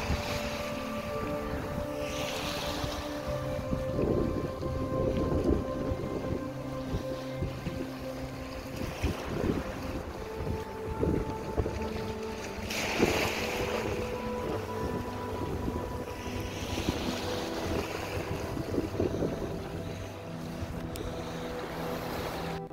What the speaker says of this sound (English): I love the sound of the water, the sound of the wind.